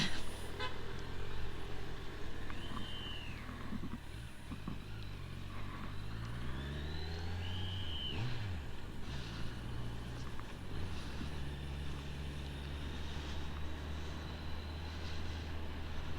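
A 2023 Kawasaki Ninja 1000SX sport-touring motorcycle rides through city traffic, its steady engine drone running throughout, rising and falling with throttle, while a horn toots and other vehicles pass close by.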